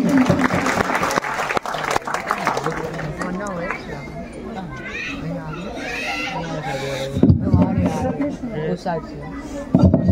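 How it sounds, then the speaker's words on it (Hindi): Applause rings out for the chief guest at a district-level competition exam results ceremony, and it is loudest in the first seconds. Voices and children's chatter carry over the clapping throughout. "और एक बार जोरदार तालियां हो जाए उनके लिए।"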